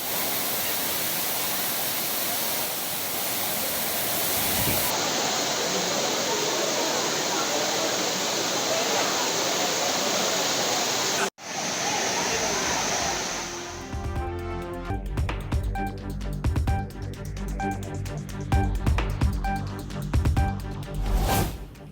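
Courtallam waterfalls pour down in a loud, dense, continuous roar of rushing water for about eleven seconds, then cut abruptly to unrelated music.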